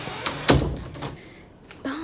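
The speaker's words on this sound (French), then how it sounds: "Je vais fermer la porte." Front door of a house being shut on arriving home, a solid thunk up close followed by quieter rattles and a faint second knock, with low room noise around it.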